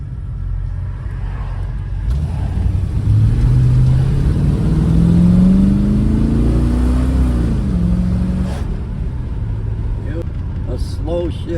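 A V8 Ford Falcon with an automatic transmission accelerates with a loud, steady engine rumble that rises in pitch, then drops as it shifts sluggishly, with a person talking over it.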